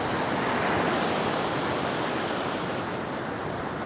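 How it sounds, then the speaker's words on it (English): Cold Pacific Ocean surf washes up a beach over bare feet, a steady loud wash of broadband water noise with some wind rush throughout and no voices. "now we're walking and we're now officially touching the Pacific Ocean"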